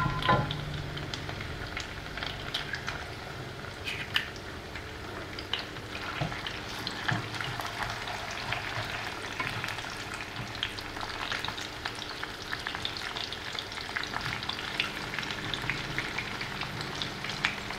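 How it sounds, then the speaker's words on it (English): An egg fries in a pan beside Chilean poor-man's potatoes, giving a steady, dense sizzle with scattered crackles and pops. It runs continuously and close for the whole stretch, with no talking. "I just want to cook the egg a little bit"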